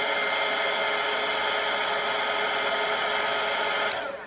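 A hair dryer blows steadily at close range over wet acrylic paint on a winter cabin landscape painting, a loud continuous whoosh that cuts off abruptly near the end.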